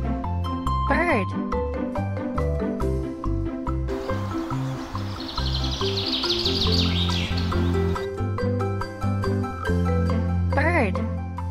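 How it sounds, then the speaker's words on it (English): Bird chirping in a bright springtime setting, a repeated rising tweet near the start and again at the end, set over a steady, loud musical backing in a children's animal lesson. "Bird."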